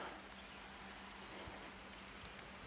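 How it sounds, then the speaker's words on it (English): Steady, faint patter of rain falling across a surface, a soft continuous hiss with occasional distinct drops. "Oh, here comes that rain."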